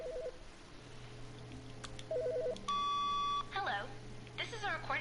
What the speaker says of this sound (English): Oh, the phone's ringing again.